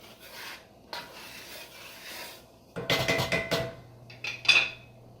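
Flour scraped and shifted around a pot while starting a roux for gumbo, giving soft dry rubbing and rasping strokes in short bursts, with a few louder scraping scrapes near the end and a light metallic clink.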